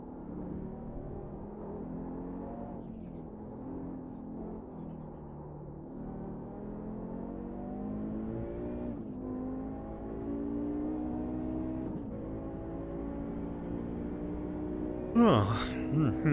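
Audi race car engine in iRacing, a steady droning engine note rising and falling through gear changes with repeated revving climbs, moderately loud throughout, with a brief clatter near the end.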